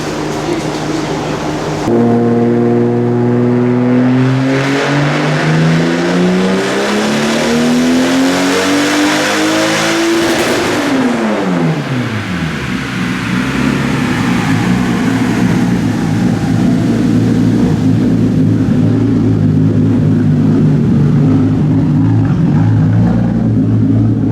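A twin-turbo 2JZ engine in a Nissan 240SX, running an intercooler and an open air filter, revs hard on a dyno. The loud engine note climbs in pitch for about eight seconds, drops sharply, then settles into a steady roar.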